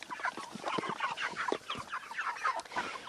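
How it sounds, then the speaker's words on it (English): A flock of about 38 farm chickens clucking and chattering at feeding time, a busy overlapping chorus of short clucks close by, with no speech. "I think I've got 38 chickens in here."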